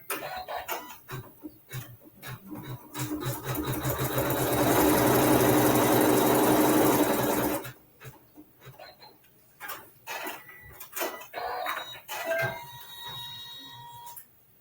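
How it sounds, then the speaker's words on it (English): A sewing machine stitching a fabric seam, its rapid mechanical whir building into a sustained run of several seconds and then stopping, with quieter handling clicks and rustles before and after. "I'm going to sew the seam"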